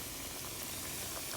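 Chicken pieces frying in a pan of hot grease for sesame chicken, a steady close, dense crackling sizzle without pauses.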